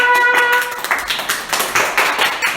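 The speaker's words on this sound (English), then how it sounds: "Clap, everybody." A small group claps together in a room, brief irregular patter of hand claps following a short tonal sound at the start, with no talking over it.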